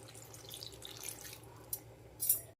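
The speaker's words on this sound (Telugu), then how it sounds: "ఇప్పుడు ఈ ముక్కలు ములిగేంత వరకు నీళ్లు పోసుకుని" Water trickles and splashes faintly into a cooking pot holding boiled vegetable pieces for a kootu, a soft steady pour with a couple of small splashes near the end.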